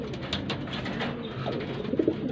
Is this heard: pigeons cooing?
yes